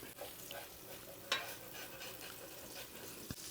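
Shredded cheese frying in a pan for a burger, a faint continuous sizzle with an occasional scrape and a couple of light clicks, quiet and close.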